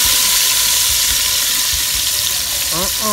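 Pepper hits hot coconut oil in a pot and sets off a loud, steady sizzle of frying that runs throughout, with a few faint clinks near the end.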